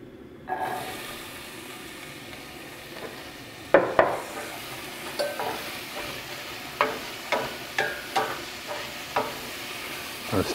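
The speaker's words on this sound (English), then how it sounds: "I'm gonna saute the onions first." Onions sauté in olive oil in a pan over a medium-hot fire. After a quiet start, a low sizzle runs throughout, broken by a series of regular scraping stirs and utensil knocks, roughly one every second in the second half.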